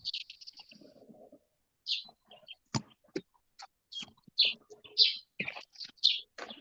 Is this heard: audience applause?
no